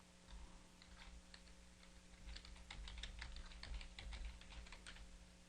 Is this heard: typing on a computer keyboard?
yes